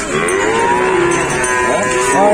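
A contest cow at a livestock market moos loudly and continuously, a long low bellowing call close by that rises slightly toward the end.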